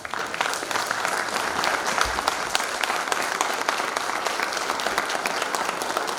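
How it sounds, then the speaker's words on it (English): Continuous applause from an audience welcoming chief guests at a formal session, a steady dense patter of many hands clapping without pause throughout. "appreciate our chief guests by clapping continuously."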